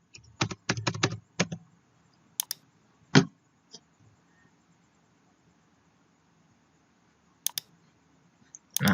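Computer keyboard typing and mouse clicks at a retail point-of-sale setup during a cashier transaction: a quick burst of close key taps, then scattered single clicks with quiet gaps, more isolated clicks later, no talking.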